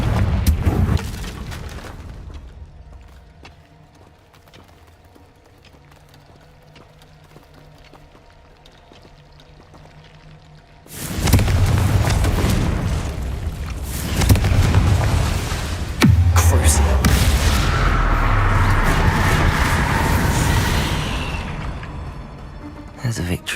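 Repeated explosive blasts from the Confringo fire spell in Hogwarts Legacy, loud bursts after a quieter stretch, with crackling debris and dense game noise filling the second half.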